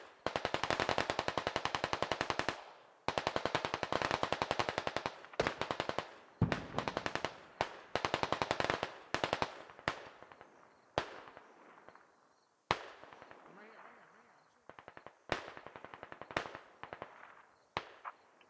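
Bursts of suppressive gunfire in the military shooter game Squad, long rapid automatic volleys cutting in and out, followed by scattered single sharp shots and echoing cracks, loud and close with no talk.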